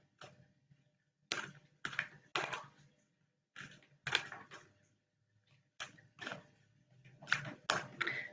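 Cards being shuffled in quiet bursts of riffling and flicking, several short clusters separated by pauses, close and soft with no speech.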